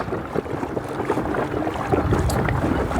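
A small boat cruises slowly under an ePropulsion Spirit 1.0 Plus electric outboard at low power. Steady wind buffets the microphone and water washes against the hull, with no voices.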